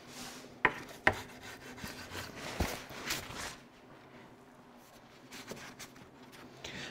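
Glue squeeze-out is scraped and rubbed off a wooden Shaker bench with a hand tool, giving faint, irregular rasping strokes, a couple of sharp taps near the start, and quiet gaps between strokes.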